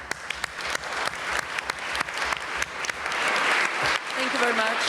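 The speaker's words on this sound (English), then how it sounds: "may I also ask you to give the organizers a merited round of applause" A conference audience bursts into sustained applause, dense clapping from many hands in a hall that builds and continues for several seconds, with a voice briefly audible underneath near the end.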